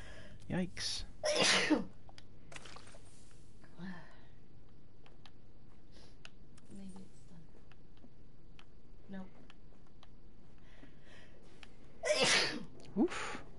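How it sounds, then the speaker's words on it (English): Sneezing fit with loud bursts near the start and again near the end, broken by a few smaller throat noises and breaths against quiet game background. "I don't know where that sneezing fit came from"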